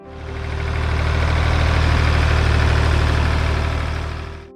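A Ford 3000 tractor's three-cylinder diesel engine runs at a steady idle, a loud continuous low rumble with an even throbbing pulse and no talk over it.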